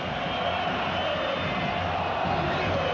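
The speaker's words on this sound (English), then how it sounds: "the chants of the crowd, listen, boring" Football crowd in a stadium at a 1998 World Cup quarter-final between the Netherlands and Argentina, a steady, dense roar of massed voices chanting, loud and continuous across the whole stretch.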